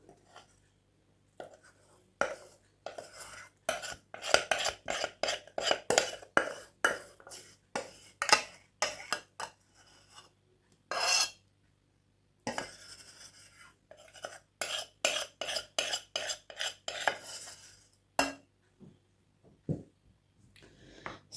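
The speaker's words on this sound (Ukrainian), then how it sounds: "Тепер можна замішувати хліб." Repeated wet slapping and squelching as wheat flour bread dough with sourdough starter is mixed by hand in a bowl, in quick bursts with short pauses, close up.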